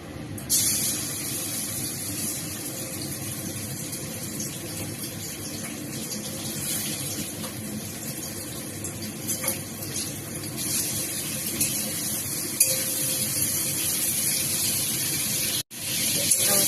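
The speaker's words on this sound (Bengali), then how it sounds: "এবার এই চিংড়ি মাছটা কটা ভেজে নেব আমি।" Prawns frying in hot oil in a wok, a loud continuous hissing sizzle close by that holds steady throughout, with a brief break near the end.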